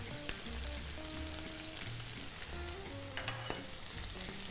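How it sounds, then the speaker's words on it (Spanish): Chopped garlic frying in a pan for a Spanish hake with mushrooms and prawns dish, a steady close sizzle with faint occasional stirring ticks, no voices. "Vamos a freír un poquito el ajo."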